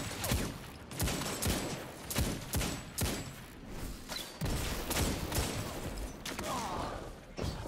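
Video game gunfire in Destiny 2, a string of sharp shots and short volleys at steady intervals over a dense, busy combat soundscape.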